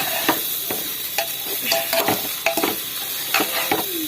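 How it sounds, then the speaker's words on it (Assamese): Rice frying in ghee for a festival recipe sizzles steadily while a spoon scrapes and stirs it in the pan, giving repeated sharp scraping strokes at an irregular rhythm, close and fairly loud. "এতিয়া মই ধুনীয়াকৈ ভাজি লৈছোঁ।"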